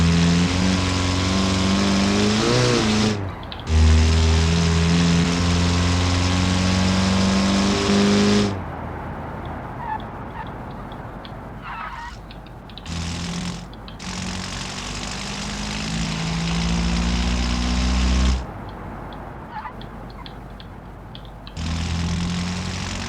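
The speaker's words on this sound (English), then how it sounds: "It sounds like a diesel." A diesel four-cylinder car engine in the Automation game revs loudly, droning and rising in pitch, then cutting off and returning across several pulls, with no voices over it.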